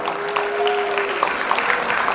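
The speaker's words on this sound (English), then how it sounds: "everybody please give them a big round of applause" Applause from an award-night audience honoring standing award recipients, steady dense clapping filling the room throughout, with a faint sustained tone running beneath it.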